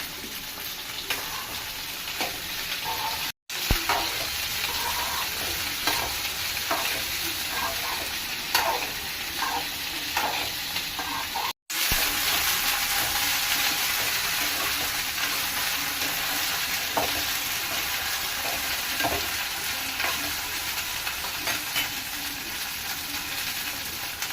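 Chicken fries in oil for a home-style chicken fry, a continuous loud sizzle with scattered pops and crackles, briefly cut off twice by sharp dropouts.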